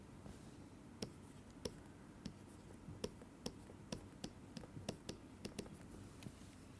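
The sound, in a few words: writing on a board during a lecture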